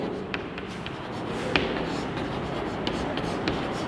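A pen moves across paper in a quiet room, a soft continuous scratching broken by several light taps as strokes start and end, close and faint.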